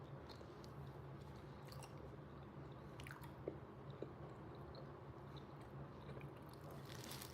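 Someone bites and chews a brownie with white chocolate chips, soft moist mastication close to the microphone with a couple of faint crunches over low background hum.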